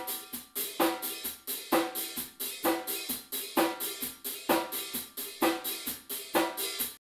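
Drum kit playing a disco blast pattern on hi-hat and snare, fast steady hi-hat strokes with regular snare accents repeating in a tight, bright groove, close and alone until it cuts off.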